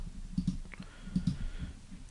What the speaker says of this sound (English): In the extensions, I'm just going to left click on this,